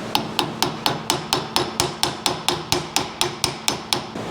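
A tractor hydraulic pump part on a Ford 801 is hammered onto its shaft in about seventeen sharp, evenly spaced metallic blows, close and loud, with no talking.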